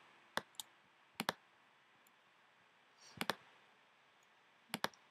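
A computer mouse clicks sharply while editing a vector shape in Photoshop, in quick single and double clicks spaced apart, close and crisp against near silence.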